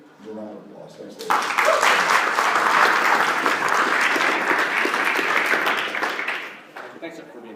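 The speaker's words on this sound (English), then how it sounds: "Give a round of applause." Audience applause at an Alcon meeting as a speaker is introduced, swelling quickly into a full, sustained round of clapping before tapering off, with a voice briefly audible at the start.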